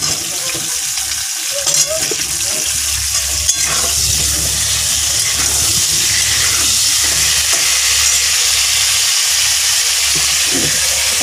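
Potatoes hiss and crackle in a pan of hot oil, added after pointed gourd has finished frying, a steady close sizzle with faint clinks across the whole stretch.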